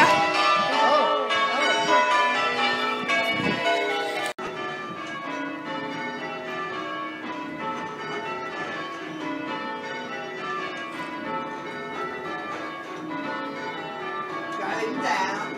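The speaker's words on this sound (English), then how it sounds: "I'm a bell ringer." Church bells pealing in a tower, rung by bell ringers, the tenor bell weighing 381 kilos; overlapping metallic strikes ring continuously and loudly, layered into a dense, sustained wash of tones.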